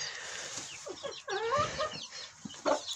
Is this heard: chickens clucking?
yes